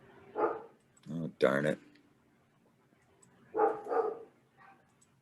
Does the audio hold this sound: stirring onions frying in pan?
no